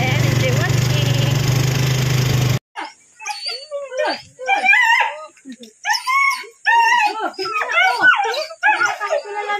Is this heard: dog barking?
yes